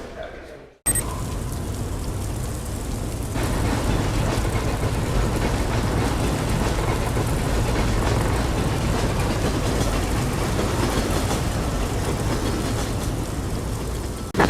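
Train in an IGI video game cutscene rumbles in after a brief quiet start, a steady heavy rolling roar with rail clatter that swells and holds for the rest of the clip.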